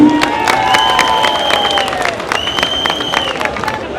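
Crowd applause with scattered claps and cheers at a peace and national unity rally in Kindia, Guinea, while whistles or calls rise over the clapping and voices murmur in the hall.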